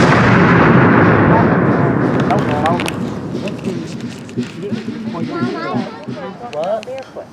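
A historic cannon fires at an Old Mill Village reenactment, a single loud close blast opening the clip and rumbling away, followed by people talking.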